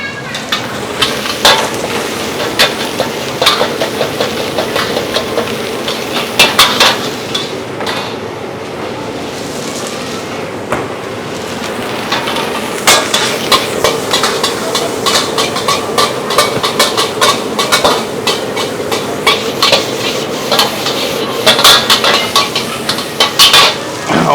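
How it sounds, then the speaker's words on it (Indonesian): Nasi goreng kampung is stir-fried in a pan at a busy food stall, a loud, steady sizzle broken by frequent metallic scrapes and clanks of the spatula against the pan. "Oke, sekarang gue bikin nasi goreng kampung nih teman-teman"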